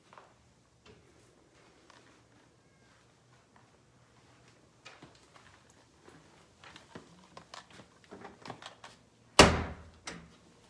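Heavy copper doors in a c. 1936 house are moved. A run of faint knocks and shuffles builds into closer clunks and ends in one sharp, loud bang near the end.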